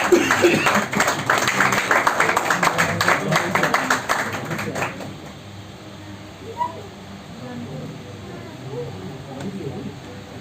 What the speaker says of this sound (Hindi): तालियां बजाइए, ये उत्साह है